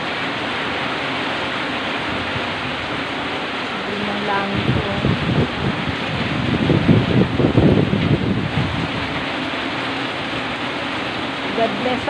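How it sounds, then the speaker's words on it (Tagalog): Heavy rain pours in a steady broadband hiss, swelling louder for a stretch, with a voice speaking briefly over it. "Kasi malakas ang ulan."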